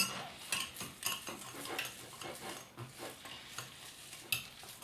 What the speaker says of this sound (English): And so it'd probably be good to switch to a whisk at this point.